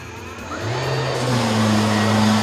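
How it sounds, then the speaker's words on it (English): A Festool wall sander starts up and runs against a wall during new-house painting prep, a steady close whirring motor hum that climbs in pitch as it spins up, heard alone without talk. "This is a Festool sander, wall sander."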